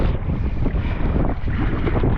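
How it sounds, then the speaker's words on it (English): Strong headwind roars over the microphone while a sea kayak crosses open water. Waves slosh against the hull throughout, with dense buffeting that is loud and close and carries no voices. "by now the wind has been going on for a while, so we're building up some waves"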